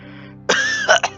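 A human voice imitates an old steam engine coughing, giving one short, rough, throaty burst that breaks off and then sputters twice more, close and loud.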